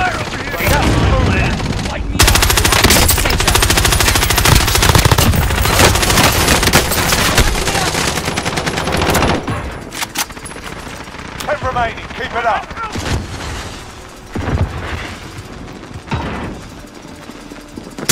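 Dense automatic gunfire and bursts of shots rattle through a Call of Duty Warzone match, loud and continuous for several seconds before thinning into scattered shots, with game voice lines and talk mixed in.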